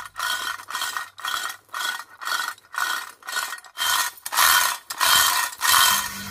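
A hand-operated chain puller machine draws a heavy leaning coconut tree upright, making a series of regular rasping ratchet strokes, about ten in a row, each a scraping metallic grind separated by brief pauses.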